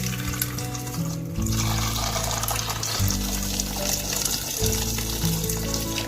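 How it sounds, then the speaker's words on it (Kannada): Water pours steadily into a pressure cooker holding tomatoes and ginger, a continuous close splashing gush with no voices. "ಈ ರೀತಿ ನೀರನ್ನ ಹಾಕಿ ಇದರ ಮುಚ್ಚಳನ ಮುಚ್ಚಿ"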